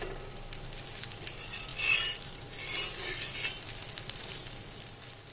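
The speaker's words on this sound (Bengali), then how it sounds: "আমি আর একটি পরোটা ভাজতে বসিয়ে দিয়েছি" Soybean paratha frying in a pan gives a steady, close sizzle with light scraping and utensil clinks, moderately loud and continuous, with no talking.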